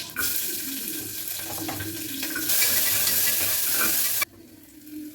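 Steady sizzling of chopped garlic, shallots and chillies frying in a hot pan, loud and close, with stirring scrapes and a brief burst of running water before it drops quieter.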